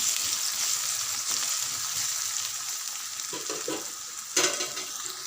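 Ginger garlic paste frying with curry leaves in a pan, giving a steady close sizzle with occasional stirring scrapes and one brief louder clatter near the end.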